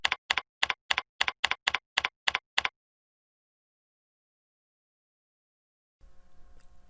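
Rapid bursts of computer keyboard typing, about a dozen sharp close key clicks in quick rhythm while a kit name is entered, followed by silence and then faint room noise.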